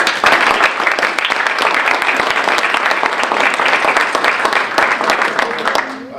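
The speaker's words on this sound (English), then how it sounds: "round of applause for our panel" A room full of people applauding a panel after a club panel discussion, with loud sustained clapping for about six seconds that tapers off near the end.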